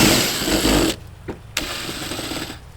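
Power drill backing screws out of trailer siding during a restoration, a loud continuous motor whine that cuts off abruptly, followed by quieter scraping and a couple of short bursts as the drill restarts briefly, with no talking.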